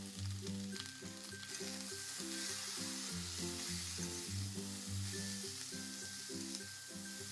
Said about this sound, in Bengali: এবার ফুলকপি সময় নিয়ে ভালো করে ভেজে নেব।